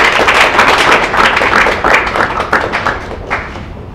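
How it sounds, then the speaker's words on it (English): A room of people at a WeWork office event in Brooklyn claps for the next speaker, the applause loud and close with sharp individual hand claps that thin out and grow sparser toward the end. "everyone give Matt a round of applause."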